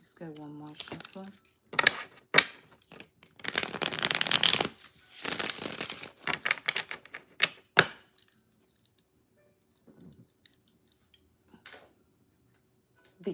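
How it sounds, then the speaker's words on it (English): Tarot cards are shuffled by hand in bursts of riffling and slapping, with quiet pauses between them and a few soft taps near the end. A voice speaks briefly at the start. "Let's get one more shuffle."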